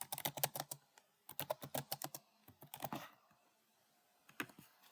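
Close, quick typing on a computer keyboard while entering an email into a database form, fast bursts of crisp key clicks separated by brief pauses.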